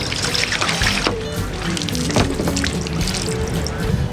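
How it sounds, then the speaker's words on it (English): A bucket of water poured onto a sailboat's bimini top, splashing and trickling steadily off the fabric for several seconds, with dripping and a faint engine-like hum underneath. "I'm gonna pour a bucket of water on it and see what happens"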